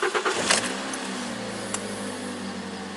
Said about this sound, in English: now this motor is again cold, and I start and we check that how this motor starts